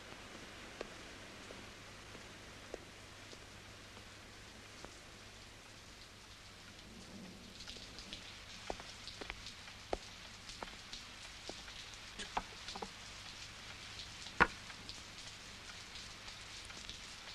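Quiet rain falls steadily at night, with scattered sharper drops tapping close by over a soft background wash.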